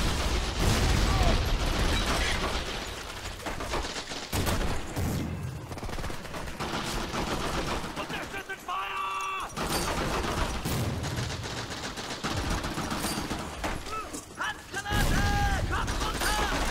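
Rapid turret machine gun fire in Medal of Honor: European Assault comes in repeated bursts mixed with other battlefield gunfire and mechanical clatter, while a player talks over the action.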